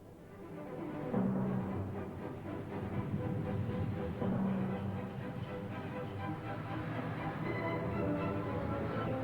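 A steam train rumbles along the rails through a mountain landscape in East Germany with a steady rolling clatter, a low continuous drone heard from inside or nearby, no voices.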